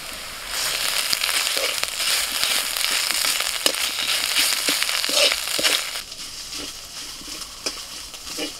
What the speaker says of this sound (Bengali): পেঁয়াজটা একটু ভেজে নিয়ে দিচ্ছি আদা রসুন।